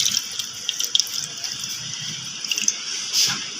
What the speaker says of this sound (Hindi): दूध डालेंगे